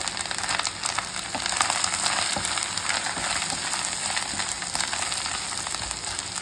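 Tomato hits hot oil in a pan for a Bengali fish curry, a loud, continuous close sizzle and crackle of frying with faint stirring scrapes, no talk.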